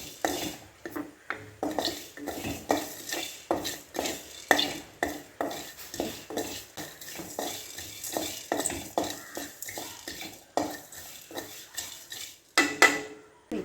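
A utensil scrapes and taps rhythmically against a pan while Kashmiri chilli powder and spices are heated and stirred for chicken chukka, steady close strokes with a faint sizzle beneath, no voice over it.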